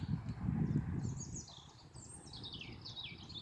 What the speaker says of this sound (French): Écoutez le chant de ces petits oiseaux.